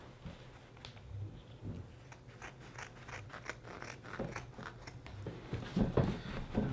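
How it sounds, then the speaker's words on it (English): Scissors cut through soundproofing panel material in a run of quick snips and crunchy rasps, close and fairly quiet, growing denser and louder toward the end, with no talking. "Cut through it, cut past it."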